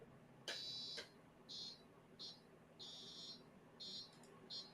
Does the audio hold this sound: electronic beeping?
yes